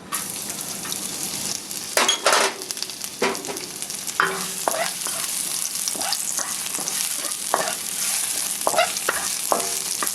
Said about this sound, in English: once your oil is hot, just add some of the minced garlic and shallots